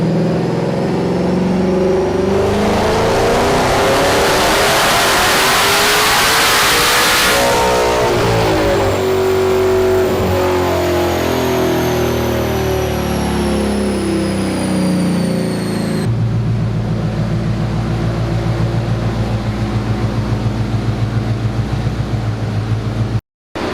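Twin-turbo S650 Mustang on a dyno, the engine roaring loudly and climbing steadily in pitch through a long full-throttle pull, then easing off to a rumbling idle before cutting off abruptly.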